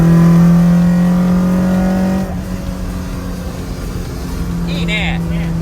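Toyota AE86 engine revving hard during a downshift, a steady loud drone dropping abruptly in pitch to a rougher lower rumble; voices chatter faintly underneath near the end.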